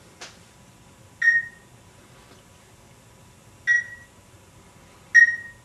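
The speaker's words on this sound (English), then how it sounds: "The beeping and all the noises you hear, that's the parrots trying to get the dog's attention." Three short electronic-sounding beeps made by parrots, spaced a couple of seconds apart, clear and moderately loud in a quiet room.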